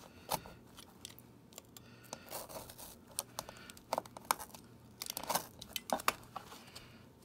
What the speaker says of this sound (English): let's just cut into this thing and see what the layers are like. I got a sharp knife here.